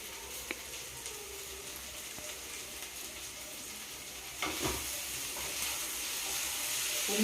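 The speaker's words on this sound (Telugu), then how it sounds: "ఫ్రై అయిన తర్వాత ఈ గోరు చిక్కుడుకాయ ముక్కలు వేసుకుందాం." Cluster bean pieces fry in a pan with curry leaves, giving a steady, moderately faint sizzle that swells a little louder toward the end, with no one speaking.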